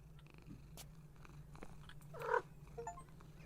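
A video-game cat purrs steadily while being petted, a soft continuous rumble with a brief louder mew or chirp partway through, close and alone with no talking.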